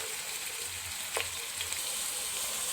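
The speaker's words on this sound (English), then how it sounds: "So now I have added chili and the tomato. So let it fry for a while." Onions, chili and tomato fry steadily in a pan over lowered flame, a continuous faint hiss with one brief sharper crackle midway.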